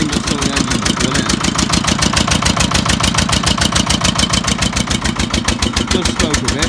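An old Winget dumper's single-cylinder engine with an exhaust leak runs at a steady idle, giving a fast, even, close thumping chug that carries on throughout.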